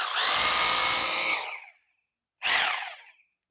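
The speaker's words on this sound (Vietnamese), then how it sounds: "này là vừa khoan vừa búa." A Bosch GBH 2-28 DV 820 W rotary hammer runs in combined drilling and hammer mode, giving a loud, close, buzzing motor roar for about a second and a half, a short pause, then a second brief burst.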